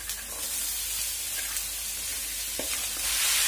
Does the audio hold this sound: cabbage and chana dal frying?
yes